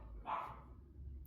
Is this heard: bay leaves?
no